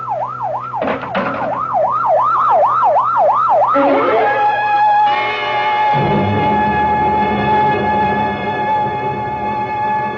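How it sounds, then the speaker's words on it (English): Loud wailing ambulance siren in a radio mystery drama, rising and falling rapidly at first, then shifting to a steadier tone with a vehicle passing close, filling the whole scene. "better get that ambulance out here fast"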